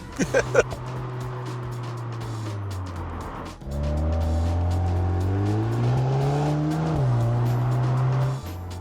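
A Volkswagen Golf R engine revs hard and climbs through the gears in a 0 to 60 sprint, a sustained loud roar with a brief dip at a shift before pulling again.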